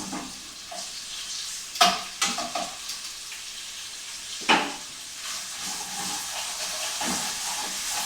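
Sardinian sausage meat fries in oil in a pan for malloreddus pasta, with a steady hissing sizzle and a few sharper clacks and scrapes as the meat is pushed around.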